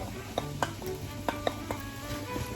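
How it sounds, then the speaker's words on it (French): Chopped onion and shallot hit hot duck fat in a frying pan, giving a steady close sizzle broken by a few sharp clinks of a utensil against the pan. "Une fois la graisse bien chaude, donc on verse l'oignon et l'échalote dans la poêle"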